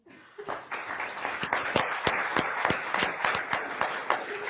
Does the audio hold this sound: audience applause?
yes